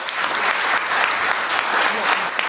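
A room of press members applauding at a governor's press conference, a loud, dense burst of clapping close by that continues steadily for a couple of seconds and then cuts off abruptly, with some voices mixed in.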